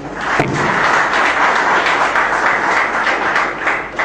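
An audience at a public speech applauds, giving a dense, continuous wash of clapping hands that stays loud and steady for several seconds after an opening thump.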